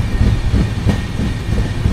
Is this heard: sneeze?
no